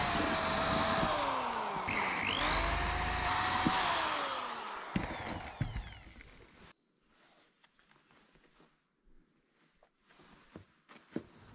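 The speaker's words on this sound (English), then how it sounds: "Next, drilling that pair of second holes, which are securing the rubber pad in place." A power drill whines loudly while drilling holes to secure a rubber pad on a tracked bicycle tank build, its pitch sweeping up and down as it bores, then cuts off, leaving quiet scattered clatter and handling noises.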